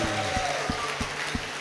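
Rhythmic hand clapping from a church audience giving thanks, five evenly spaced claps close by over a steady murmur of background noise.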